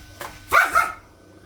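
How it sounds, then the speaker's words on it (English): A dog barks twice in quick succession, close and fairly loud, then quiet follows. "Stop barking at me."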